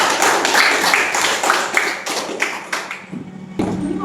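Classmates clap for a fellow student in an Indonesian classroom lesson on Eid prayer, a dense burst of many hands clapping up close, trailing off toward the end.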